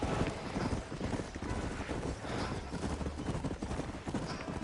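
Horse hooves trot in steady, rapid clip-clop through the Red Dead Redemption video game, thick with low rumble and a faint wind wash that runs continuously underneath.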